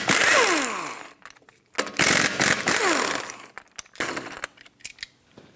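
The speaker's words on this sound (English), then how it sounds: "take off all 5 of your lug nuts" Several bursts of a power impact wrench removing the lug nuts with a 19mm socket from a 2012-2020 Ford Focus wheel: loud, close, rattling runs, each about a second long, with short pauses between them.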